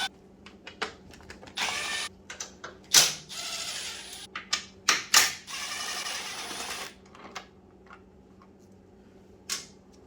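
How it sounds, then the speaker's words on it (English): Bolt being removed with a number 4 Allen key from the side fairing of a 2016 Kawasaki ZX10 motorcycle, heard as close, scattered clicks, scrapes and metallic rattles in irregular short bursts, with no talking. "I got a number 4 Allen, and we're just start taking off the bolt."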